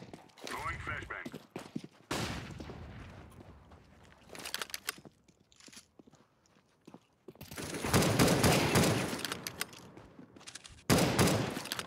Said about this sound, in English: Going flashbang.